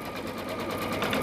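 An embroidery machine stitches an applique design onto a sweatshirt in a fast, even mechanical chatter, close and steady without talk.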